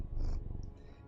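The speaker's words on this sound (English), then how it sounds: "if you can hear him purring" Close, steady purring from a male cat, a low rumbling rhythm with soft breathy rustles, heard alone for about a second.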